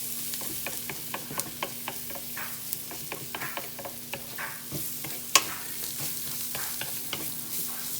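Rice stirred in a hot pan for stuffed Cornish game hens, with a spoon scraping and clicking in an irregular rhythm over a steady low sizzle, close and moderately quiet, with no voices.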